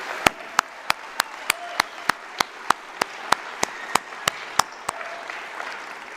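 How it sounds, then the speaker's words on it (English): Applause for student speakers at a 2021 Cornerstone graduation ceremony, heard as a thin run of sharp, evenly spaced single claps, roughly three per second, steady and moderately close for about five seconds before trailing off. "Can we give one more round of applause for all our student speakers?"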